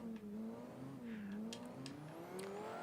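Engine of a car built in the Automation car-building game, revving loudly and steadily with a rising and falling pitch, heard alone and close.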